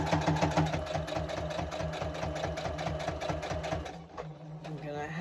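A sewing machine winding bobbins runs in a steady, rapid mechanical whir and clatter, close and continuous, easing briefly near the end before resuming.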